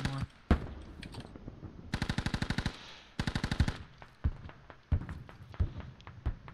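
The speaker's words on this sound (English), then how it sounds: "Can hear the gun going. Hear the thud." A 30mm autocannon on an MT-LB vehicle fires in a video game. It lets off two rapid bursts of evenly spaced rounds, then scattered single heavy thuds, fairly close and with no talk over it.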